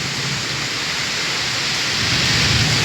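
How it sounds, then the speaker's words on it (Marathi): Heavy unseasonal rain pours down on a Konkan village with continuous loud hiss and rumbling thunder, a dense unbroken wash of sound that swells slightly toward the end. "अवकाळी पाऊस किती पडतोय"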